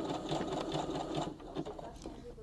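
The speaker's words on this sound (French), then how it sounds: "Et c'est parti, on commence à coudre." A domestic sewing machine stitches an appliqué Christmas tree with a close, steady pulsing hum while someone talks in French over it.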